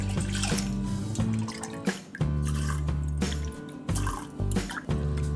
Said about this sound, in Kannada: ಈಗ ನಾಲ್ಕು ಲೋಟ ನೀರನ್ನು ಹಾಕ್ತಾ ಇದ್ದೀನಿ